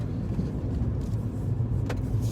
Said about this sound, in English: you can hear that ACVT whine a little bit when you put under the foot on the acceleration